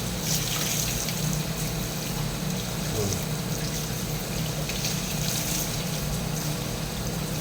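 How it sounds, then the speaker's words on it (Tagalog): Water runs steadily from a tap fed by a multi-point water heater in a continuous hiss with a low background hum, no voices. "Pagkanggalin yung tubig. Masyadong malakas."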